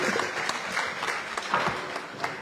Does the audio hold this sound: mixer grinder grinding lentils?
no